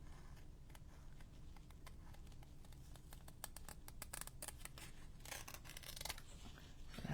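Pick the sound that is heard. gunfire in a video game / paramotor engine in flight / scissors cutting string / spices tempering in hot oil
scissors cutting string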